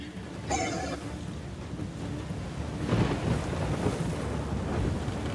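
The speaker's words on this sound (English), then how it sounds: "A storm brewing." Wind gusts and low thunder rumble of a brewing storm, a steady roar of noise that swells a little past the midpoint and stays loud to the end, with no talking.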